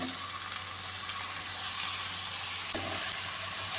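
Purple cabbage stir-fries with onion and ginger for a Kerala thoran, producing a dense, steady hiss over a low hum. The sizzle stays close and constant, with a brief surge near the end.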